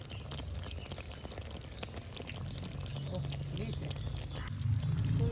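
Cooked coconut prawn malaikari curry is poured from the pan, a soft, continuous thick liquid flow with faint sloshing and gentle clatter, close and fairly quiet, with no talk.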